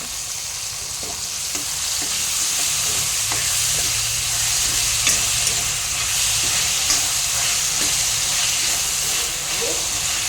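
Tomatoes cooking in a pan for chole masala give a steady, close sizzle and hiss of frying, with faint occasional stirring clicks and no talk.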